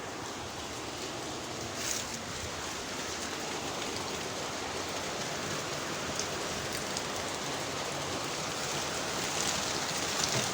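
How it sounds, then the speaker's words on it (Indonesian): Steady heavy rain falling outdoors, a dense continuous hiss of drops pattering on surfaces with no breaks, loud and enveloping throughout. "agak berisik teman-teman. Di sini lagi hujan"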